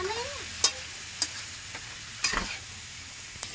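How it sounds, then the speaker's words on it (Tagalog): Cabbage and mixed vegetables being stir-fried for pancit bato, with a steady sizzle in the pan and a few sharp scrapes and clanks of a utensil stirring at irregular intervals, close and moderately loud, no talking. "nilagay na yung ating gulay, repolyo. Pasabayin natin sa pag-isa yan. Yan, hinalo-halo na niya."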